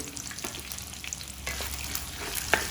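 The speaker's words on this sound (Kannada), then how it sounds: "ಎಣ್ಣೆಲಿ ಈರುಳ್ಳಿ ಟೊಮೊಟೊ ಬೆಳ್ಳುಳ್ಳಿ ಎಲ್ಲ ಫ್ರೈ ಮಾಡ್ಕೊಳ್ತಾ ಇದ್ದೀನಿ" Onion, tomato and garlic fry in oil for a boti gojju, a steady close sizzle with scattered crackles and a brief sharper pop near the end, no voices.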